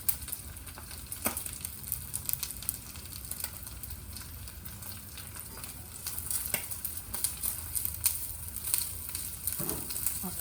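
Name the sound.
bean sprouts frying in pan for Thai clam pancake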